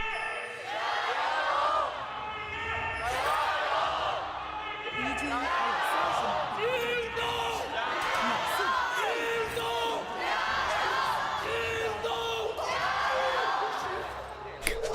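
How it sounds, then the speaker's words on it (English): An esports arena crowd of Weibo fans chants in unison at an LPL League of Legends match, a loud rhythmic call repeated several times in steady waves that fill the hall. "The Weibo fan chant."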